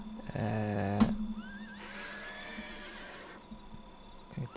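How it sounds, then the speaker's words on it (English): Horses neighing in the city-building game Sim City 4, a loud close whinny with clip-clop hooves followed by softer whinnies and ambient game sounds, heard alone without talk. "God, those horses do not shut up, do they?"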